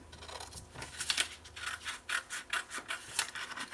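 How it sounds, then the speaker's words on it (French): Scissors cutting folded paper for a scrapbooking project, a rapid series of close, crisp snips and rasping slices at a quiet level. "Alors, moi, je vais couper ici."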